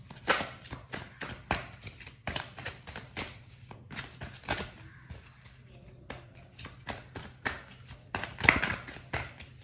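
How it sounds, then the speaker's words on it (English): Tarot cards shuffled by hand during a reading, a close run of quick papery riffles and taps in irregular bursts over a quiet background hum. "So I'm going to be shuffling your cards just a bit."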